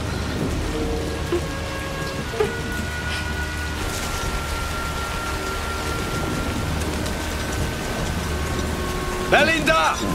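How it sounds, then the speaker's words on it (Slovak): Steady, heavy rain pours down throughout, a dense continuous hiss with occasional louder drops and a faint rumble, staying close and even from start to end. "Neprestane pršať."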